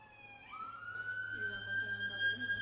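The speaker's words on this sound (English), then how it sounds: "I stopped talking when the ambulance went past." A passing ambulance siren sounds outdoors as a faint, distant rising electronic wail that holds a long steady tone over low background hum, with no talking.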